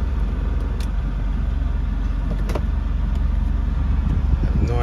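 A Mercedes C230 car rolls in neutral with a steady low rumble and road noise, close and continuous, with a couple of faint clicks or knocks.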